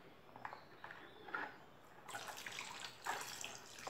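An alcohol-based paste soap mixture, about 500 ml, is stirred slowly in a container, giving soft liquid swishes and sloshing in gentle waves that swell and fade without any talking.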